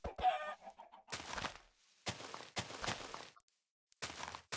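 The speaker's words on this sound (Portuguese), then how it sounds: "aqui não é ovelha. É galinha." Chickens cluck in the Minecraft video game, several short bursts of game-creature clucking in quick succession with brief silences between them, with no talk over them.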